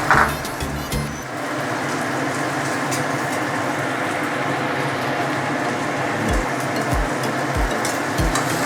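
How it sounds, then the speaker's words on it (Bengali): Nigella seeds and chopped onion sizzling in hot oil in a wok, a steady crackling hiss that holds close and loud throughout with a few low knocks, no talking. "এবার দিচ্ছি কালো জিরে ফোড়ন। ফোড়নের পরে দেব পেঁয়াজ কুচি।"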